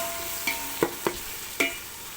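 Tomatoes sautéing in oil for biryani, with a few distinct scraping stirs of the spoon over a soft, steady sizzle.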